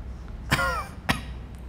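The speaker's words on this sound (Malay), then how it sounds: "Aku batuk" Two short, close coughs a half second apart, the first rougher and throaty, over a low background hum.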